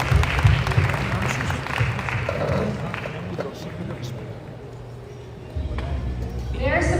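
A crowd at an evening meet-and-greet at Royal Albert's Palace gives guests joining the stage a round of applause: steady, dense clapping that dips briefly, then swells again, with murmuring voices in the room.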